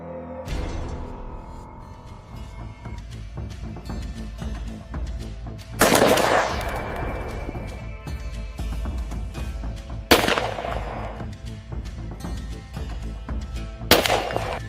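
Rifle shots ring out during a hunt of invasive wild boars on farmland: three loud, sharp reports spaced several seconds apart, each with a ringing tail, over a dense, busy background.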